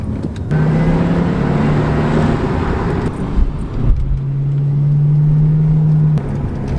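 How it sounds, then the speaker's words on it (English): A Jaguar car drives along a back road, its engine humming and droning from inside the cabin, easing off around the middle before climbing back into a steady tone, with road rumble beneath and no talk. "that's the problem with the Jag. When she ain't straight piped, I haven't got that big sound in her."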